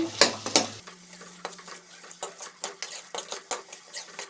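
Prawns coated with turmeric are stirred and fried in a pan, giving a steady soft sizzle broken by repeated scraping and clinking strokes of a spoon against the metal, close and fairly loud, with no talking.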